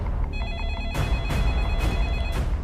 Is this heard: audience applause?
no